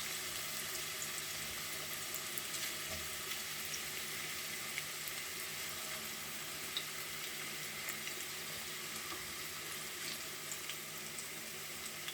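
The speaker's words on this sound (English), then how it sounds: "I'm now frying my potato chips" Steady, dense sizzling and crackling of potato chips frying in hot oil, continuous and fairly even throughout with no talking.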